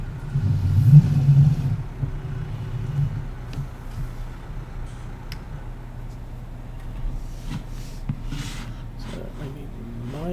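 A tractor engine in Farming Simulator 19 idles and rumbles, with a low steady drone that swells briefly near the start and then settles into a softer continuous hum.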